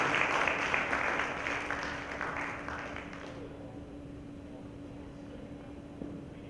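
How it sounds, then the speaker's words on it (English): A conference audience applauds its panelists, with loud clapping at first that thins and fades to quiet room tone after a few seconds. "Another big round of applause for our panelists, please."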